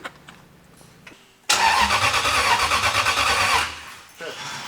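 A Toyota-based off-road race car prepped for King of the Hammers cranks briefly, then its engine catches and roars loudly for a few seconds before dropping back toward idle, with voices nearby before it fires.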